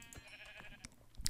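Sheep bleat in the Minecraft video game, a few faint, short bleats spread across a moment of quiet game background.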